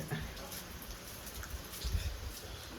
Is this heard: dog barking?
no